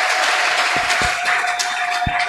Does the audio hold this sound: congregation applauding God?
yes